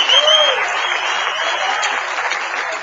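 Congregation applause in a church service, a continuous, fairly loud wash of many clapping hands with a faint tonal sound over it, steady throughout.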